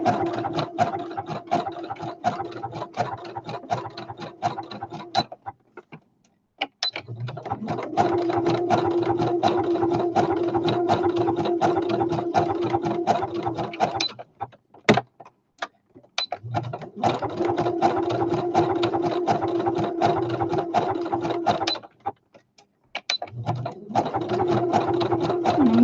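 A sewing machine runs an edge stitch on fabric for a flower basket, steady mechanical whirring in several long bursts separated by brief pauses, close and alone with no talk.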